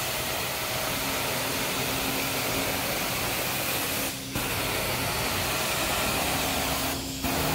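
Carpet cleaning machine wand extracting on a pet-dander-filled carpet in front of a couch, giving a steady loud broadband suction roar that runs nearly unbroken, with two brief dips where the airflow changes.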